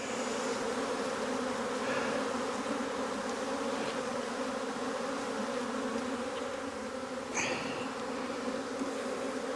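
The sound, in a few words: honey bees buzzing in a hive box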